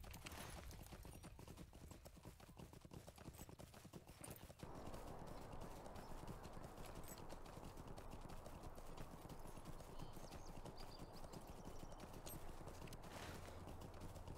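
Steady clip-clop of a horse galloping in The Lord of the Rings Online, running continuously over a constant noisy background, with a brief whinny-like sound near the end.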